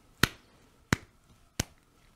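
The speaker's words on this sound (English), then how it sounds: "I'm just gonna clap very lightly so you can see where my pulse is" Three light hand claps keeping a slow, evenly spaced pulse, sharp and close, with quiet between them.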